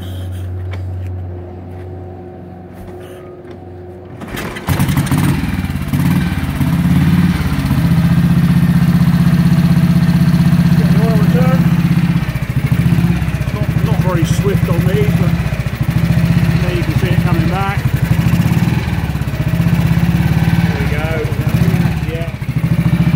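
A 1952 Matchless G80S 500cc single-cylinder motorcycle kicks into life after a quiet start and settles into a steady, loud idle with a regular thumping beat, while people talk over it now and then.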